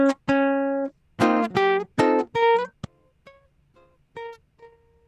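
A ukulele plays a tune as chords plus melody in a stiff, robotic way, with separate plucked and strummed notes and chords ringing briefly before softer single melody notes trail off near the end.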